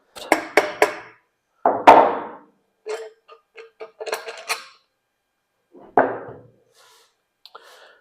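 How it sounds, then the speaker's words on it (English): Valve cover being pried loose and lifted off a Honda CB200 motorcycle engine on a bench: a handful of sharp metallic clacks and knocks, close and distinct, separated by brief silences. "We'll take off the valve cover now."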